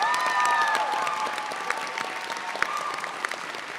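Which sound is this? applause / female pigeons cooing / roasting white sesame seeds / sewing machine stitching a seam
applause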